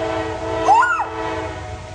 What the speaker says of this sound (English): That's a lot of diesels. How many are on that train?